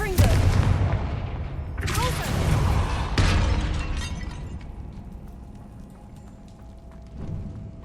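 A Confringo spell blast in Hogwarts Legacy fires off as a series of booming, crackling impacts that shatter and then fade into a lingering rumble, with a few brief voice sounds mixed in.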